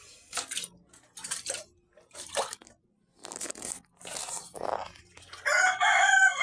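Backyard hens, including Rhode Island Reds, make short bursts of clucks and calls separated by brief pauses, ending in a louder drawn-out crow-like call, close and with no talk.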